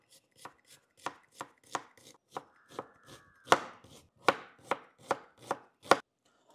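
Onions being cut with a knife on a chopping board for shev bhaji, about a dozen crisp, evenly spaced chops at a slow, steady pace, close and clear with no talking.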